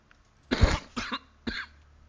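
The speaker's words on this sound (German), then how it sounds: "Ah, scheiße, Husten." Three coughs in quick succession, close and fairly loud: a heavy first burst, then two shorter ones with brief pauses between.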